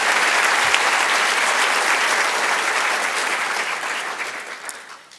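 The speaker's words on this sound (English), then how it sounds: "let's give another very warm round of applause to the three presenters" A conference audience claps warmly for three presenters at a manufacturing industry event, a full, even wash of clapping that holds strong and then gradually thins and fades toward the end.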